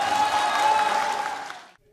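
Lawmakers in South Korea's National Assembly applaud and cheer after the vote to impeach Park Geun-hye, a dense burst of clapping from a crowded chamber that breaks off abruptly after nearly two seconds.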